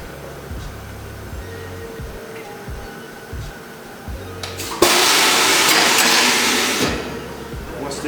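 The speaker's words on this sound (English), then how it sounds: "the black bladder is going to come down around the shoe and press it under a vacuum" A New Balance sneaker sole press lowers a black rubber bladder around a shoe and presses it under vacuum, its low machine hum giving way to a loud, steady rushing hiss for about two seconds before easing back to the hum.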